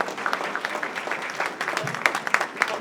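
An audience at a lifetime achievement award ceremony applauds warmly, a dense, steady patter of many hands clapping close by with a few sharper individual claps standing out.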